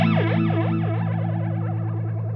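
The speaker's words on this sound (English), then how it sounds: "I guess you would use that if you're making space ray gun effects." A guitar modulation pedal with its rate knob turned up gives a space ray gun effect: a loud, continuous tone warbling in fast repeating pitch sweeps that speed up into a rapid wobble, with no talk.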